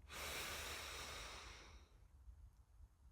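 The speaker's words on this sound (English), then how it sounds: "We'll take a deep breath in to begin." A deep, slow inhalation during a Kundalini yoga relaxation practice, a close, airy hiss lasting nearly two seconds before fading into soft, quiet breath.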